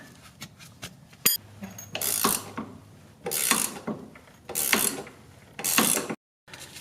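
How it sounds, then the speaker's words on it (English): A socket wrench ratchets on the suspension end link nut of a 1997–2001 Honda CR-V, giving several separate bursts of close, loud clicking with short pauses in between and no talk. "This is a 5mm that holds the end link in place, and then you could use a wrench to try to break it loose."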